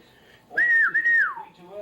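A single loud whistle, rising and then sliding down in a short two-part call to a dog in a home yard, sounds close by against a quiet background.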